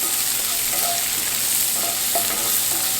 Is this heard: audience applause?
no